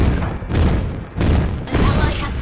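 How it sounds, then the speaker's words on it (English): A turret destroyed in the Mobile Legends video game, a few loud booming bursts spaced about half a second apart, with game noise between them and no talking. "Turret has been destroyed."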